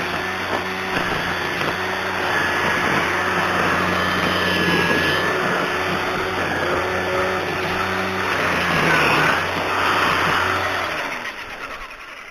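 A Ryobi 40 volt battery string trimmer runs steadily and close by, its even motor whine and whirring line holding for about twelve seconds before easing slightly at the end, with no talking.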